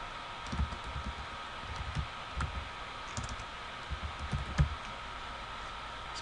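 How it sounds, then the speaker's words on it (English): Soft, irregular clicks of keys on a computer keyboard as an app code is typed in, faint and close against a steady background hiss, with no talking. "So I type in the app code"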